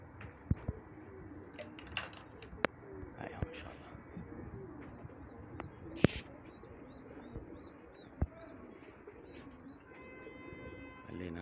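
Pigeons gather around a loft at sunset, soft cooing and scattered clicks and flaps over a quiet outdoor background, with one sharp high chirp standing out midway and faint tonal sounds near the end.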